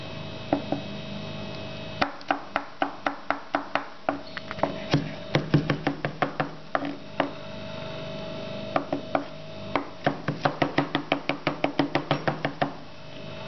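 Ingredients for İnegöl köfte crushed on a hard surface, a series of sharp close knocking thuds, sometimes spaced, sometimes in quick regular runs, with no talking.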